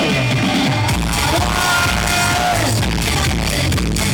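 Wedding reception crowd welcoming newlyweds with loud yelling, whooping and scattered clapping, a dense continuous roar of voices and bangs, close and packed throughout.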